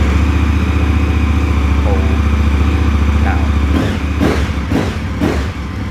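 A 1290 motorcycle engine with an aftermarket Wings slip-on silencer runs loud and close at a steady, throbbing idle, then gives several quick throttle blips near the end.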